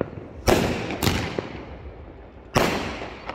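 Sky shot firecrackers burst high overhead, three sharp booming explosions with a trailing rumble after each, two close together near the start and a third a couple of seconds later.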